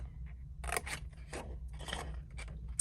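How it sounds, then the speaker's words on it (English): Scissors snip through card to cut out a skinny triangle, four or five quiet close crunching cuts in a row against a low background hum. "we're just going to cut straight up that score line and cut that completely out"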